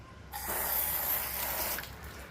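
Water sprays over a 2018 Toyota Camry bumper under repair, a close, steady hiss that starts abruptly and runs for just over a second before tapering off.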